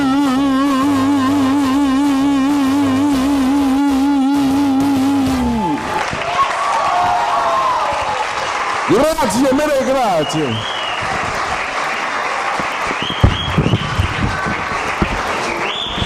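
Audience applause at a show rises after a sung passage ends, a broad crowd clap that continues while a voice speaks over it.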